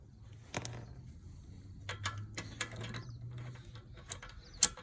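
Lug nuts on a car wheel are loosened, with a sparse run of ratcheting clicks and metallic taps, a low mechanical whir under them and one sharp clank near the end, close and fairly quiet.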